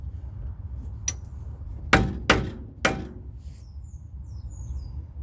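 Hammer smacking a car brake caliper to knock it loose during brake maintenance: one light tap followed by three sharp, loud metallic strikes in quick succession, with faint chirps in the background.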